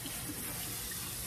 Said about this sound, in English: So I'm just gonna rinse that real well